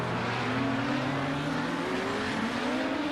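Race cars in a pack roaring past at the Long Beach street circuit, a dense, loud blend of revving engines with rising and falling pitch and brief tire squeal, continuous throughout.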